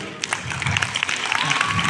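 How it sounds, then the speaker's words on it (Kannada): Applause from the audience at a Mysore Dasara fashion show, brisk crowd clapping with sharp individual claps standing out, building slightly in loudness across the short burst. "ಒಂದು ಜೋರ ಚಪ್ಪಾಳೆ ಬರಲಿ ಇಲ್ಲಿ ಬಂದಿರೋ ಎಲ್ರಿಗೂ"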